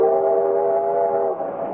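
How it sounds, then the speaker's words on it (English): Steam train sound effect in an old radio drama, a steady chord-like whistle tone held over a continuous rumbling run, loud and alone with no voices. "I wish this old train would go twice as fast as now."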